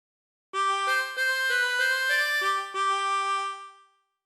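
A 24-hole tremolo harmonica plays the opening phrase of Ampar Ampar Pisang, a short run of sustained reedy notes with a shimmering wavering tone, close and clear, alone with no voice.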